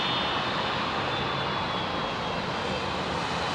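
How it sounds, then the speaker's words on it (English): Rolls-Royce RB211 high-bypass turbofans on an old airliner departing London Heathrow runway 27R roar steadily and loudly, a broad continuous rumble with a faint whine on top and no talk. "Oh, listen to those RB211s, man. Rolls-Royce RB211 turbo fans."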